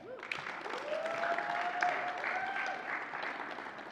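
A conference audience applauds in a steady, dense clapping that holds for several seconds, with a thin whistle rising above it.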